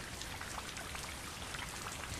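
Steady rain falls and patters on surfaces outdoors, an even, continuous hiss of many droplets at moderate distance with no voices.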